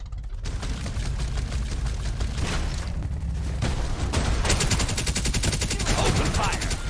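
Rapid machine-gun fire in a video game clatters in sustained bursts, growing louder and denser toward the end, layered with a rumbling background and occasional speech.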